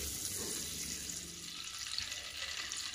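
Butter and oil sizzle in a pan on the stove for Dhaba-style matar paneer, a soft, steady hiss running evenly throughout at low volume.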